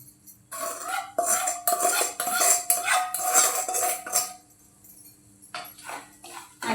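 Roasted semolina tipped into ghee in a pan for Malvani mango sheera and stirred, with repeated scraping and clinking of a spoon against the pan over several seconds, a brief lull, then more stirring close by.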